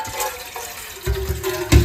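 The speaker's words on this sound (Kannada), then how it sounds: "ಮೊದಲಿಗೆ ಪಾತ್ರೆಯನ್ನು ತೆಗೆದುಕೊಂಡು ಸ್ವಲ್ಪ ನೀರನ್ನು ಬಿಟ್ಟುಕೊಳ್ಳಬೇಕು" Water from a tap running into a kitchen vessel in a home, a steady hiss with louder gushing bursts near the end, with no voices.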